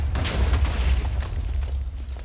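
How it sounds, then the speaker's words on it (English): A small explosion in the Minecraft video game gives a dull, muffled boom with a low rumble that holds steady for a couple of seconds without a sharp crack. "That wasn't much of an explosion."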